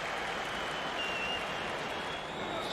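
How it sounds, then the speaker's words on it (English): Steady stadium crowd applause at a rugby league test match, a continuous dense wash of clapping and crowd noise heard from a distance, unbroken and even throughout with no talk over it. "a very good round of applause for Henry Paul, who is sitting up now"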